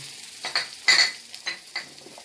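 Celery, chili pepper, onion and tomato paste are stirred in a pot for moro de gandules, giving several close scraping and clinking strokes of a utensil against the metal with a soft sizzle underneath.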